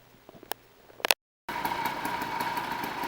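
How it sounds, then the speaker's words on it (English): Scattered clicks and taps, then a short gap of silence, then the 49cc two-stroke gas engine of a kit-built motorized bicycle starts up and buzzes steadily nearby. "there's the finished gas bike, and it is running"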